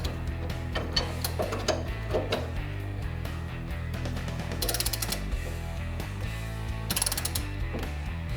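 A ratchet wrench tightens a brake bolt on an IROC car in a garage. The pawl clicks rapidly and steadily in close, repeated strokes, with a few brief pauses between runs.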